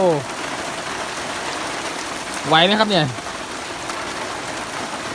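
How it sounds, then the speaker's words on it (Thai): Heavy rain pours as an even, dense hiss in the Khao Yai area, with someone talking briefly over it. "ตอนนี้ฝนตกหนักมากเลยนะครับ"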